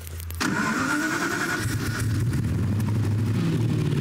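A Ferrari V8 engine cranks and catches, then settles into a loud, close, raspy idle with a buzzy, motorcycle-like tone.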